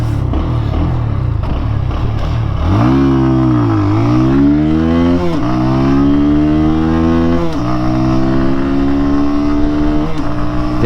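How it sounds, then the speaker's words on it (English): A small cafe racer motorcycle launched from a stop, its engine revving up through several gear changes with rising and dropping pitch, loud and close from the rider's position. "Now this is how you launch a smaller bike."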